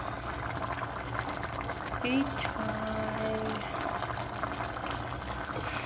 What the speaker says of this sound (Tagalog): Pakuluan lang po natin ng ilang minuto.